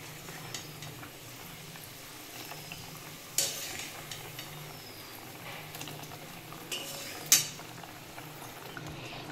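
Fried vegetables go into boiled red lentil (masoor) dal and are stirred in a pot. Soft, steady scraping and stirring carry on throughout, with two sharp utensil clinks partway through and no talking.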